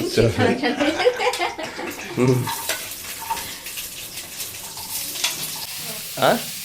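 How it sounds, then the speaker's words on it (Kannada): Garlic sizzles and crackles in hot oil as a tempering for chitranna (lemon rice), a steady close frying hiss with a few sharper pops, while voices talk over it. "ಬೆಳ್ಳುಳ್ಳಿ ಟಪ ಟಪ ಅಂತ ಸೌಂಡ್ ಬರುವ ಹಾಗೆ ಹುರಿದುಕೊಳ್ಳಬೇಕು."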